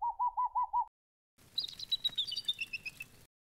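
A boreal owl call in a children's video game: a short pulsing trill of repeated notes, then a pause and a brighter series of chirping, descending calls, clear and close.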